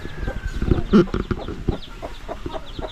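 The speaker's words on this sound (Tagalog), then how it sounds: "Galit na galit pa yung inahin." An angry mother hen clucks agitatedly in short, close bursts, one sharper squawk standing out, amid rustling and faint background noise.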